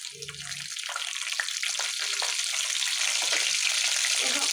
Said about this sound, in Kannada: ಸ್ವಲ್ಪ ಜೀರಿಗೆ ಹಾಕ್ತಾ ಇದ್ದೀನಿ, ಕರಿಬೇವು ಹಾಕೊಳ್ಳಿ